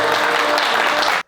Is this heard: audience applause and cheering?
yes